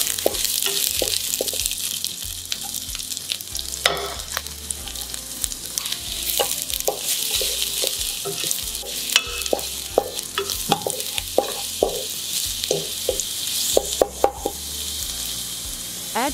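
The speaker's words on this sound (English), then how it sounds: "Add garlic and ginger and stir fry until fragrant." Garlic and ginger stir-fried in oil in a hot pan at medium heat, a steady close sizzle with frequent scraping and clacking of a spatula against the pan throughout, no voices.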